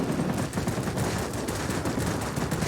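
Aircraft guns firing at a hard ground target in a World of Warplanes air battle, a rapid continuous rattle of bursts holding steady for a few seconds, dense and mid-distance, with no voices.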